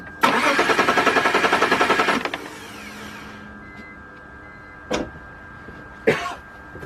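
A BMW 328i engine with a rough-running misfire cranks with a rapid, even starter rhythm for about two seconds, then falls quiet, followed by two brief, sharp mechanical bursts.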